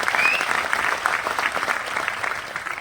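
An audience claps loudly and steadily at a business presentation, with dense, continuous applause from a crowd heard close by.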